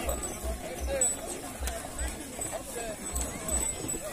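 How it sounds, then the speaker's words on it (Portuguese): Rhythmic hoof clopping from several oxen pulling ox carts on a road at a night gathering of ox-cart drivers in Água Branca, Paraíba, Brazil, with crowd chatter and shouting voices over a steady outdoor rumble. "Vem muito carro de boi aí"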